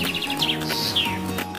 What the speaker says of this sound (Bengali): ঘয় ঘুঘু পাখি